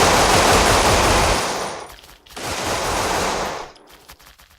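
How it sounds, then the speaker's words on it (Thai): Two loud bursts of rapid gunfire in the zombie video game Blockade 3D, each lasting a couple of seconds, separated by a short quiet gap. "ได้ยินเสียงปืน"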